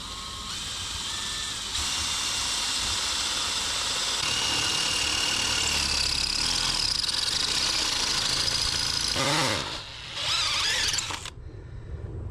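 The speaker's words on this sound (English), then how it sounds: "Drilled straight through that concrete really fast." A drill bores into a concrete footer while a home aviary is repaired: a loud, steady grinding roar that holds for about eleven seconds, then cuts out near the end.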